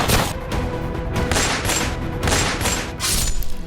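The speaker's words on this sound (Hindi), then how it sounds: "हमलावरों ने करीब 16 राउंड फायरिंग की" Rapid bursts of gunfire from attackers, about 16 rounds, crackle loudly and densely in quick succession, with no talking over them.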